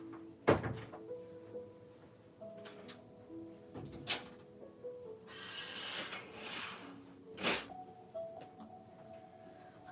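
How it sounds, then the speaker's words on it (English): An indoor door is pushed shut with a dull thunk, among several soft knocks and bumps in a quiet room, followed by a brief rushing noise and another solid thud. "Let me just close my door real quick too."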